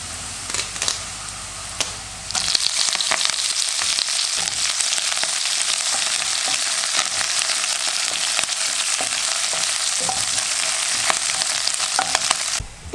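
Coconut pieces and curry leaves fry in a hot pan for kadala curry with a loud, steady crackling sizzle, a quieter stretch at first, then full continuous frying with occasional stirring scrapes.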